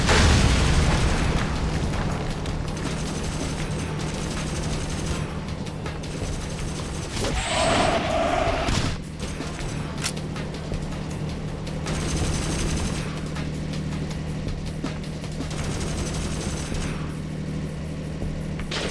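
Constant enemy gunfire and booming explosions fill a Battlefield 2: Modern Combat battle, a dense, steady roar of shots and blasts with a louder burst in the middle, no voices over it.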